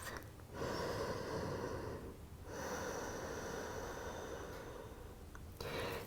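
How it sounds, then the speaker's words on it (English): Slow, deep breaths during a gentle yoga pose for the low back, two long airy exhalations through the nose separated by a short pause, close and quiet. "One more breath"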